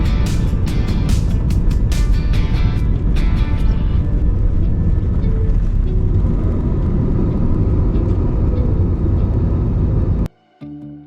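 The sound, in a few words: Thai Smile Airways A320 airliner taking off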